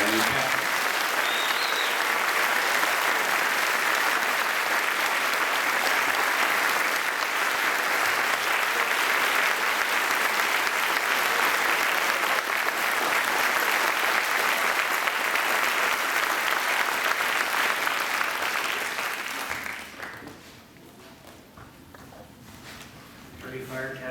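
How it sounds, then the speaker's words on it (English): Sustained applause from a seated audience at a fire department promotion ceremony honoring new fire captains, steady and dense for about twenty seconds before tapering off into quiet room sound. "let's have a round of applause for our brand new captain"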